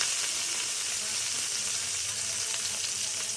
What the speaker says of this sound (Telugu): ఆయిల్ బాగా మరిగాక ఇలా వంకాయలు వేయాలి